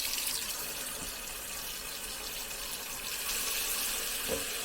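Hot tap water pours steadily into the base of a Ninja air fryer, a continuous gushing hiss, close and fairly quiet, with a couple of faint knocks.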